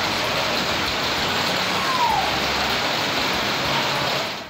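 Steady, dense rain pours down in Chakwal during a heavy downpour, a continuous broadband hiss that stays loud and even throughout, with no voices.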